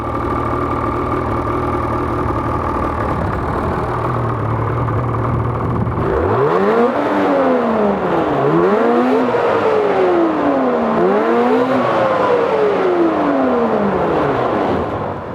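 A 2012 Ski-Doo E-Tec 800 snowmobile engine idles steadily, then is revved repeatedly in several rising and falling sweeps, loud and close.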